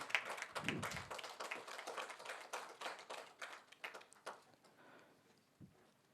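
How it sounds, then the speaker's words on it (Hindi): A small audience at a Maithili-language cultural gathering applauds with brisk, scattered clapping that gradually thins out and fades to a few last claps. "ताली बजैत रहबाक चाही"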